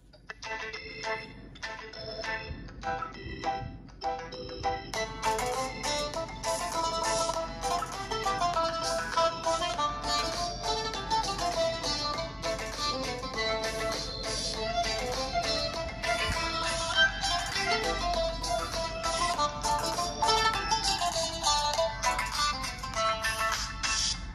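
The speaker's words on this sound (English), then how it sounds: "the speakers are very loud" Tecno Pop 8 phone playing music loudly through its dual speakers, a bright melodic tune that starts with a few sparse notes, then fills out into a full, steady, loud stream for the rest of the clip.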